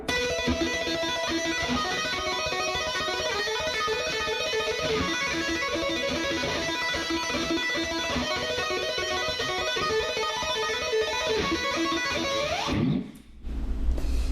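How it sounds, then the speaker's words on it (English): Continuous stream of rapid electric guitar notes played with two-handed tapping, dense and flowing, played steadily at moderate volume before cutting off abruptly near the end. "I use two-handed technique to play the same notes."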